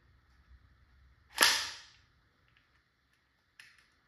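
An LL4D Sicariis GD50 CO2-powered launcher fires a .50 caliber Rune Rebel rubber slug with one sharp, loud crack and a brief fading tail, followed a couple of seconds later by a much fainter pop.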